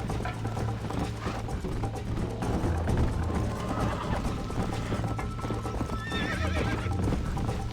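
Horse hooves clip-clop steadily in the Red Dead Redemption video game, a dense rhythmic trot over a low game soundtrack, with a brief whinny near the end and no speech.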